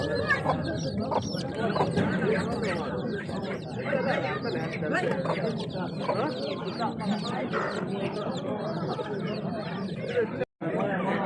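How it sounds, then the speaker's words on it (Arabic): Chickens, including Brahma chickens, cluck and chatter continuously amid a busy crowd of voices talking nearby at a Friday poultry market in Al-Aziziyah, Wasit, Iraq. "ديك ودجاجات."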